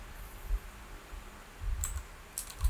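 Computer keyboard keys clicked for a Ctrl D shortcut: a few quick, quiet key presses in two small bursts over low room hum, with no speech.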